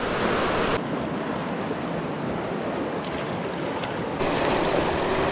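Swift river water rushing near the bank at a trout fishing spot, a steady broadband roar with some wind buffeting the microphone, loud and continuous.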